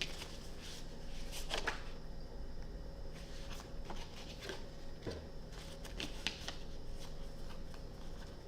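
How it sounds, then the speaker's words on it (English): Tarot cards shuffled in quick bursts of papery riffling and flicking, close and fairly soft over a steady hum, with a few sharper slaps of the deck. "let me shuffle these cards"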